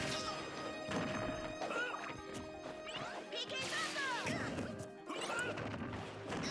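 An up smash landing in Super Smash Bros. for Wii U during a tournament match, a sharp crash of impact sounds amid busy game effects and music, with commentators talking over it.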